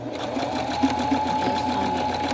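A sewing machine stitching a flat felled seam, a close, steady rapid whirring hum with fast needle knocks running through the whole short span.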